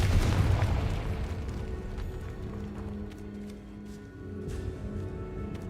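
A Confringo spell explosion in a video game, a deep booming blast at the start that fades into a rumbling tail with faint hum and scattered clicks.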